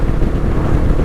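A Honda CB500X motorcycle engine at around 4,000 rpm shifts up a gear, giving a loud, close, steady low-pitched rumble with no one talking.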